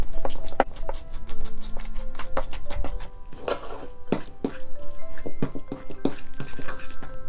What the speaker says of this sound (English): Stir together the butter with the herbs, lemon zest, and garlic.